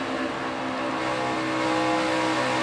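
NASCAR Sprint Cup race cars roar together in the closing laps at Fontana in 2016, a loud, steady, unbroken engine drone with layered harmonic whine and no gaps or talk.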